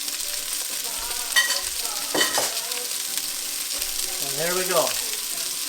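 Sausage fries in vegetable oil with a steady, even sizzle, a few stirring clinks and scrapes now and then, and someone speaking briefly over it.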